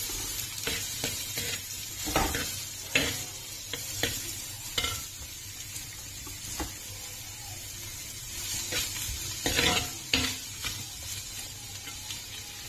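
Sliced onions, four of them, stirred and fried in a pan as the base of a gongura chicken curry, giving a steady sizzle broken by repeated scraping stirs of the spoon, close and moderately loud with no talking.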